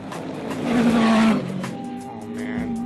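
Rally vehicles blast across the Sahara desert in Libya, one roaring engine swelling loudly to a peak and fading as it passes, with a fainter engine drone continuing after.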